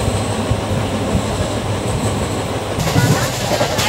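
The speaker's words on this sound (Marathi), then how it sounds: "बसलोच आता ट्रेनला, निघाली येत आहे वरणगाववरून ट्रेन." Inside a passenger train heading from Varangaon toward Shirdi, a steady rolling rumble with faint wheel clatter and a brief squeal fills the carriage, with a low voice in the background.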